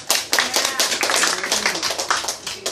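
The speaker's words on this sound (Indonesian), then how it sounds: "Tepuk tangan dulu dong" A group applauds at a community meeting in an RW 04 neighbourhood of Manggarai Selatan, with dense, close clapping that keeps going and swells in uneven bursts throughout.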